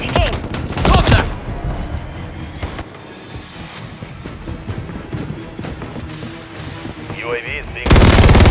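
WSP Swarm submachine gun in Call of Duty MW3 Team Deathmatch on the Breenbergh Hotel map, firing loud rapid bursts near the start and end with game effects and callouts between.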